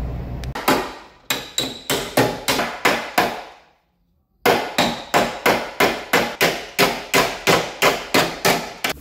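A hammer straightens crash-damaged front body panels on a BMW E36 in a long series of sharp, ringing metal blows at a steady rhythm. There is a brief silent pause midway, then the strikes resume at the same even pace.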